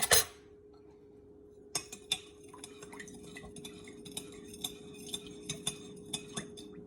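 A spoon clinks against a bowl while mixing apple blueberry pie ingredients, a series of light, fairly regular taps and scrapes, close and clear, with no talking.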